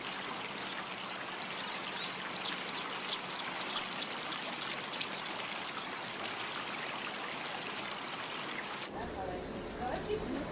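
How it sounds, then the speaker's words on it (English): Water flows steadily along a man-made creek channel in rural Japan where tank water rejoins after being cleaned by carp, a continuous broad rush with small trickles, ending abruptly near the end. "Cleaned up by the carp, the tank water eventually rejoins the channel."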